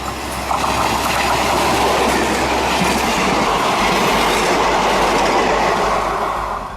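An Amritsar–Jalandhar DMU express train passes close by, a loud continuous rumble with rhythmic clickety-clack of wheels over rail joints sustained throughout.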